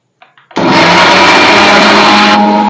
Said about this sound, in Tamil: இப்போ இது எல்லாத்தையும் நல்லா அரைச்சி எடுத்துக்கிடுவோம்.